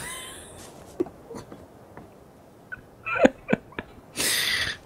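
A voice imitates a cat's meow in a few short, nasal, squeaky bursts, close and fairly quiet, ending with a longer louder vocal burst.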